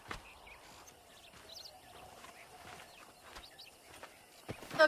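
Horse hooves clop faintly at a steady walking pace while riding in the Western game Red Dead Redemption, a soft rhythmic patter under quiet ambience with a couple of sharper knocks near the end.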